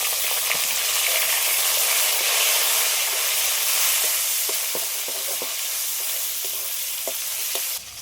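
Tomato with salt and turmeric fries in a pan, giving a loud, steady sizzle that fills the whole stretch, with occasional faint clicks of stirring.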